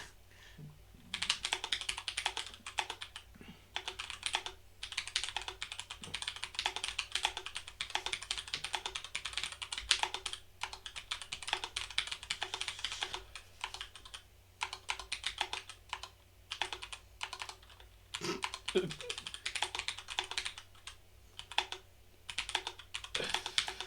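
Rapid clattering keystrokes on a computer keyboard continue throughout, arriving in uneven bursts with brief pauses, close and crisp, with no one speaking.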